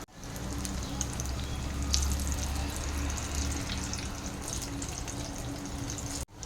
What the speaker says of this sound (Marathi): फ्राईंग पॅनमध्ये मी तेल गरम केलेलं होतं तर त्यामध्ये हे कटलेट आपण असे तळून घेऊया